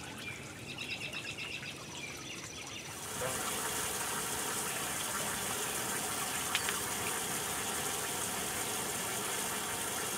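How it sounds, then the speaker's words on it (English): Water pours into a fountain basin being filled over its pump; after a quieter start, a steady, loud rushing gush begins and continues unbroken. "So now we want to go ahead and fill up our basin"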